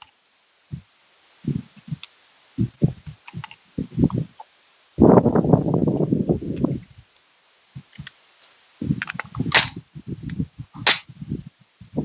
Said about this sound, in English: So we'll go ahead and try that one again with the gongs. Just load up another 5 rounds